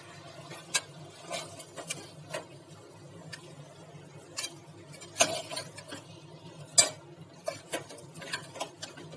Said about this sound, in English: अब टमाटर को भी अच्छे से मिक्स कर देंगे।